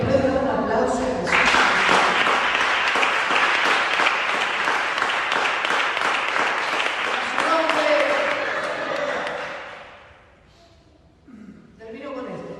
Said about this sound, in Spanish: ¿Puedes dar un aplauso a Jesús?